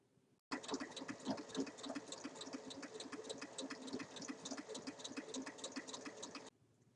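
A sewing machine stitches fabric right side to right side onto a zipper for a large multi-pocket bag, a steady rapid mechanical whir with rhythmic needle clatter running for about six seconds before stopping.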